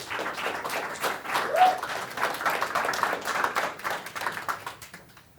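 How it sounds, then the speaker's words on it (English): An audience claps for guests being brought up on stage at a live marketing talk show, a steady round of applause that swells midway and then thins out, fading near the end. "So give them a round of applause"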